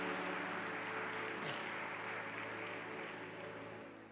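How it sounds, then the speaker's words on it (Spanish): Church congregation applauding during an evening service, a continuous, distant wash of clapping that holds steady and slowly fades toward the end. "primer aplauso de la noche"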